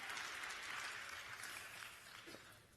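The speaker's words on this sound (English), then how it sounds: "Please clap" Applause from the audience at the FTD World Cup Finals Gala, a fairly faint, steady patter of clapping that continues for a few seconds and trails off slightly toward the end.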